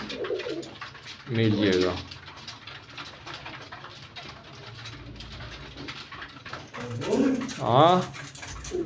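Pigeons in a breeding setup coo in a few deep throaty bursts, close by, with a voice talking briefly between them.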